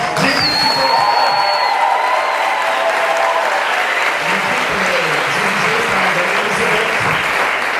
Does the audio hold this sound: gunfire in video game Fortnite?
no